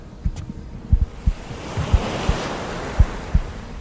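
Calm ocean water with waves lapping softly at a steady, irregular rhythm over a broad wash of surf and light wind noise, no voices.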